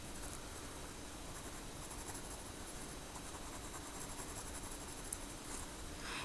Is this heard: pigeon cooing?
no